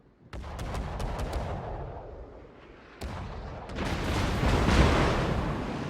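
Shells fired by the cruiser Devonshire in the naval video game World of Warships boom out as sharp, loud blasts, followed by a rolling, rumbling barrage of gunfire that swells toward the end.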